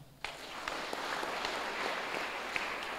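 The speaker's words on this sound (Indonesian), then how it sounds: "Tepuk tangan" Applause from a church congregation during a diocesan personnel announcement by a bishop, a soft, distant patter of clapping that starts abruptly and holds steady, with a few sharper individual claps standing out.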